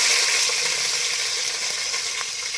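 Onions frying in a pan for mutton biryani, a loud, steady hiss and crackle of sizzling oil close by, running continuously with small popping bursts and no talking.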